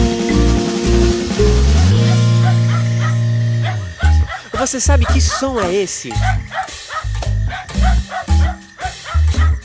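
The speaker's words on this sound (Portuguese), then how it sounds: "Isso mesmo, é o som do cachorro." A cartoon dog barks and yips repeatedly in a bright children's song about grandma's garden, the sharp close barks cutting through upbeat music while a voice talks.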